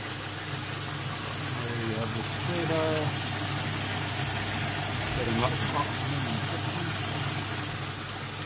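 A water pump submerged in the fish tank of a hybrid media and deep-water-culture aquaponic system runs with a steady, continuous hum and watery gush throughout, while a person talks over it.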